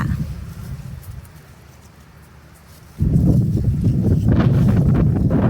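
Strong wind gusts into the microphone outdoors beside a backyard fence where bamboo shoots grow, a loud low rumbling roar that eases briefly and then surges back hard and steady.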